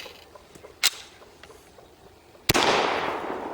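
Two sharp gunshots come from a Ruger P95 9mm pistol that is jamming and failing to eject, the second shot louder with a lingering echoing tail, separated by quiet handling noise.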